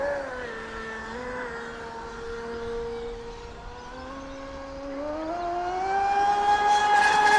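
A Proboat Supersonic Wake RC boat fitted with an upgraded TP motor whines steadily at high pitch, its tone climbing as it speeds up toward the end, with no talk over it.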